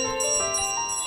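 A bell in Untitled Goose Game rings with a steady, clear metallic chime whose bright overtones sustain evenly through a short moment, with no voices.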